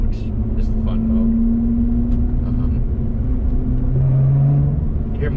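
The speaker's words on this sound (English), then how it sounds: "This car has two exhaust modes, and right now we have it on the loud mode" A Lotus Evora GT engine rumbles steadily with a deep, throaty exhaust drone in its loud exhaust mode, rising in pitch briefly, while a person talks over it.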